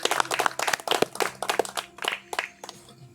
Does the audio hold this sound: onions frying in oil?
no